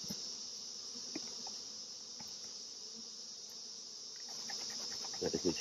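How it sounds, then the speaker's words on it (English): Steady, close buzzing of many honeybees at an opened beehive during an alcohol wash for Varroa mites, a continuous drone with a few faint taps and rustles near the end. "More than enough bees there."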